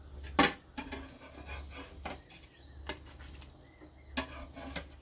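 Roti lifted off a hot pan onto a plate in a home kitchen, a sharp metallic clink near the start followed by softer scrapes and taps of utensil against pan, close and fairly quiet.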